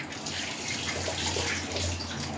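Rice rinsed under running water in a home kitchen, a steady close splashing and gurgling stream with a low hum underneath, no voices.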